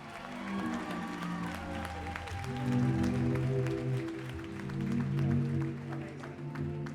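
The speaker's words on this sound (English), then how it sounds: "can I get a round of applause for our incredible Paramount here?" Clapping and cheering from a concert crowd at the Paramount theatre rise in two swells, while sustained tonal music or a drone carries underneath throughout.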